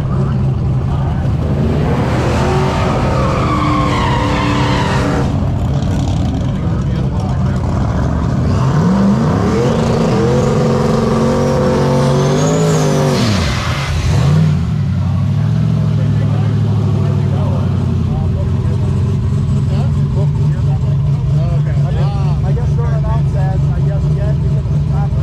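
A Hemi-powered Mustang drag car makes a pass at a drag strip event, a loud sustained engine roar that rises and surges through the run, with people talking over it.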